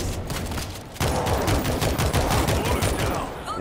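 Rapid, loud bursts of automatic machine gun fire in the game World War Z crackle continuously after a brief quieter lead-in, with dense rattling shots throughout.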